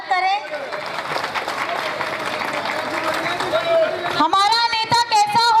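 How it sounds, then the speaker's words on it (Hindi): Crowd at a political rally applauding to welcome a popular leader, dense sustained clapping close and loud, followed by a voice shouting over it at the end. "एक बार जोरदार तालियों से उनका स्वागत करें"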